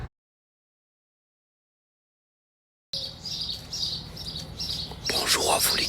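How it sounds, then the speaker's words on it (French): Birds chirp and sing repeatedly in a lively outdoor chorus that starts after nearly three seconds of silence, with the calls growing fuller and busier toward the end. "de se réveiller comme ça avec ces belles fleurs, ces jolis chants d'oiseaux"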